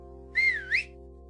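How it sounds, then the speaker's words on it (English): A single two-part whistle, rising and then swooping up again, clear and close over a steady low hum, with no voices. "Then give a whistle for Ace Hart, Private Eye Dog."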